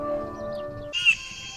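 A superb bird-of-paradise calls in a nature documentary, giving a short, loud, buzzy, harsh burst over a steady background, with a raspy caw-like quality.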